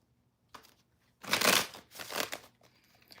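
Tarot cards are riffled and shuffled close up in two quick bursts after a light tap, with the rustle fading to soft handling at the end.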